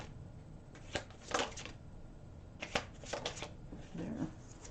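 Tarot cards shuffled for a reading, several quiet riffling bursts and soft slaps spread over a few seconds, close and faint in a quiet room with no talking.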